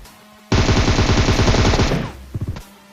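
A loud, rapid burst of automatic gunfire in PUBG Mobile lasting about a second and a half, followed by a few separate quick shots, close and alone.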